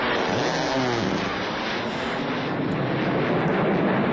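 An F-15 Eagle fighter jet roars past, loud and continuous, with a broad engine rush and a sweeping pitch shift as it passes.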